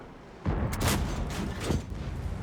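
A tank's main gun fires in an online tank battle game while playing the Japanese Chi-Go tank, a heavy booming blast with rumbling echo, followed by a second softer boom about a second later.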